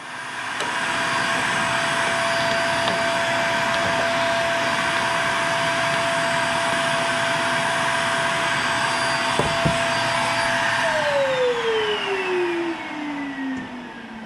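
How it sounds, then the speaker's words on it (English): A vacuum cleaner roars steadily inside a Vogelzang wood pellet stove, a loud, even whine held for about eleven seconds before its pitch sags as the motor winds down. "I usually try and get the vacuum as far up in there as I can"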